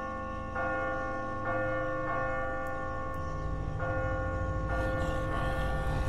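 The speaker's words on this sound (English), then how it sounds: "Let's pull the rope. Ring the bell." A church bell in The Walking Dead video game rings out in slow, evenly spaced strikes, each resonant tone swelling over a steady low background hum.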